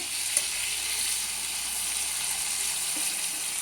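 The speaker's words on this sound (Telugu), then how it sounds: "చూడండి, బెండకాయలు ఇలా వేగుతూ ఉంటుంది" Okra (bhindi) frying in a pan gives off a steady, dense sizzle that stays even and continuous, close up, with a faint clink or stir now and then and no talking.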